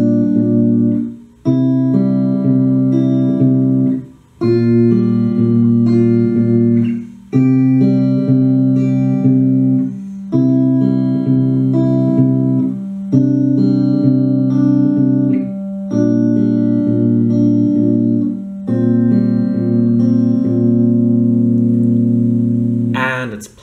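Guitar playing the riff of a song, a loud, steady run of sustained chords changing every couple of seconds, the phrase repeated, with no voice over it.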